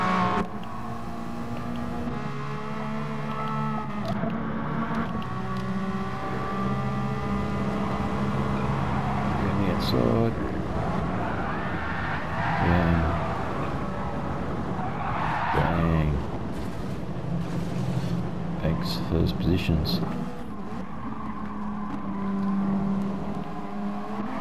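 Race cars in Gran Turismo Sport lap the Nurburgring in a Nations Cup round, with engines droning and shifting pitch through the gears and bursts of tire squeal and skidding in several places.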